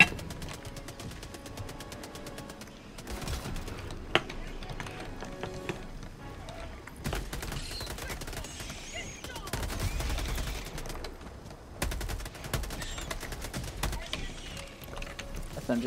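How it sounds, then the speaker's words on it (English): Rapid SMG fire against bots in Helldivers 2, in long bursts and stuttering runs of shots over game effects, with players talking over it at times. "SMG appears to be pretty good against the bots."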